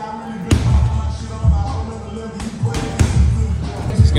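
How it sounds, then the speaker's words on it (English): Heavy balls thud repeatedly against a gym floor during ball slams in an MMA fitness class, a series of loud, close, irregular impacts over background bustle and voices. "Oh, ball slams, ball slams."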